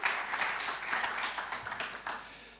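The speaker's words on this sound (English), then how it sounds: "if everyone would like to clap, give congratulations to these talented individuals" An audience at a Food Tech Congress agritech panel applauds the panelists, a brief, soft wash of many hands clapping together, distant and fairly quiet.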